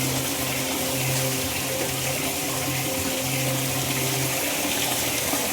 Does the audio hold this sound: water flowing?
yes